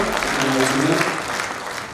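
Audience applause at a festive concert in a cultural centre in Sevan, a steady wash of clapping throughout with some voices mixed in.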